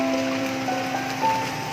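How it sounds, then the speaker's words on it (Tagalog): Rain falling steadily on surfaces outdoors beside a jeep, a soft continuous hiss with a faint tonal hum underneath, no one speaking. "Okay daw, umuulan guys."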